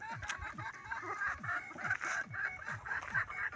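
Chickens cluck and murmur nearby beside a roadside, one tailless, in a steady stream of short, repeated calls, with faint background noise.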